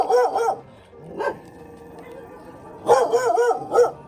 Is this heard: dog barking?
yes